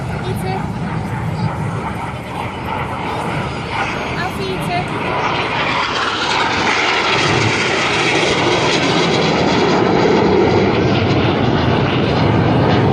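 Red Arrows jets at the Southport Airshow 2014 roar overhead in a continuous, loud, broad engine rush that swells slightly as they pass, with a commentator talking over it.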